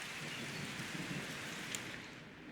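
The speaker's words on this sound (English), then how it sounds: "it's raining" Steady, even hiss of rain falling on a wet racing circuit in the motorsport management game Golden Lap, continuous and moderately soft with no other sounds standing out.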